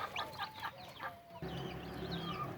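Chickens and ducks at a home hatch of chicks, rain-dampened, clucking close by in quick, repeated calls, with a steady low rumble of background noise.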